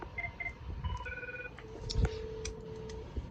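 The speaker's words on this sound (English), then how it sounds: "Got the 24 ringtone." A Cisco 7941 IP desk phone running on Asterisk plays a short electronic ringtone of clipped beeping tones, close and moderately loud, with a faint room hum beneath.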